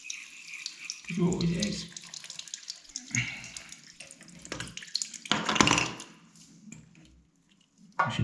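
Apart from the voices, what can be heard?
water dripping from pipe during bathroom fitting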